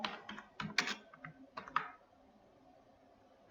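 A few quick bursts of computer keyboard typing, soft clicks in small clusters during the first two seconds, then quiet room tone, no talk.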